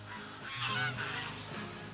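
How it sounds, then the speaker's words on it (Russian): Geese honk on a farm, a loud, close cluster of overlapping nasal honks that swells in the middle and keeps going to the end. "Гуси, утки."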